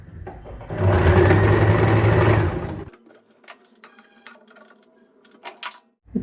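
Sewing machine stitching saree fabric runs in one loud, steady mechanical burst lasting about two seconds, then cuts off, leaving faint handling clicks and rustling.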